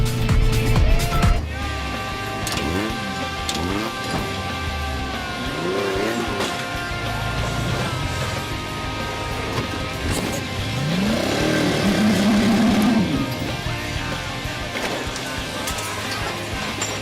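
A 4WD vehicle drives past on an off-road course with its stereo pumping loud music, the engine drone and music blending as it passes close by, with a short louder rumble at the start.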